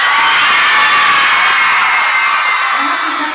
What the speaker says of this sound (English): I think you might be the loudest crowd so far